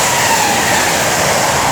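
A Class 325 train runs past at Lichfield Trent Valley on a Chester to London Euston working, giving a steady, fairly loud rolling rumble and hiss that holds throughout the brief moment.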